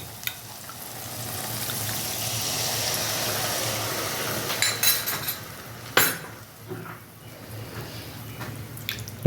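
Water from rinsing a bowl poured into a sizzling Bengali tel koi fish curry, a steady frying hiss softened by splashing, with sharp clinks of utensil on pan near the middle, with no talk.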